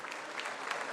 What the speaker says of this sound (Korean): 이 대통령이 본회의장에 들어서자 민주당 의원들을 중심으로 환호와 박수갈채가 터져나옵니다